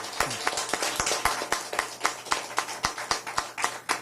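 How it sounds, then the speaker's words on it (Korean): Sparse, close clapping at a political event, individual sharp claps in a loose, fairly regular rhythm rather than a full crowd ovation, fairly faint overall. "다시 한번 큰 박수 부탁드립니다."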